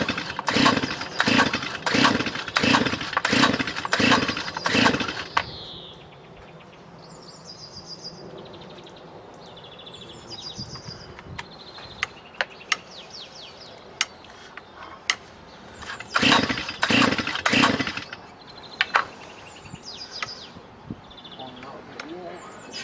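A Stihl BT120 C post hole drill with a new carburetor and tank is pull-started again and again. Quick bursts of cord rips come first, then a quieter pause with birds and voices, then another cluster of pulls without the engine catching.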